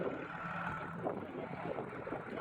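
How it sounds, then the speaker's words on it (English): Steady broadband rumble of wind buffeting a microphone, continuous and fairly loud throughout, with no voices. "Gotta change directions here, it's too windy."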